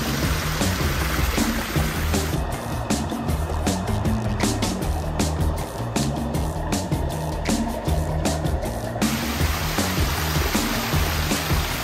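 A backyard pond waterfall pours in a continuous, dense splashing rush, close and steady throughout, with a faint rhythmic mechanical beeping or clicking in the middle stretch.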